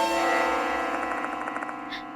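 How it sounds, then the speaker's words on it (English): A bell rings in the horror video game Spirit Hunter: Death Mark II, a sustained resonant toll with a steady shimmering pulse fading over about two seconds. "This bell sound is..."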